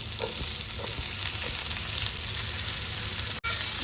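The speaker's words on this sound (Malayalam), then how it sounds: "അങ്ങനെ ഇതിന് നന്നായിട്ട് ഒന്ന് വഴറ്റിയിട്ട് പച്ചമണം എല്ലാം മാറി ഉള്ളി ഒന്ന് വഴണ്ട് വരട്ടെ" Onion and green chilli sizzle steadily in an oiled pan, a close, continuous frying hiss with faint stirring scrapes and one brief break near the end.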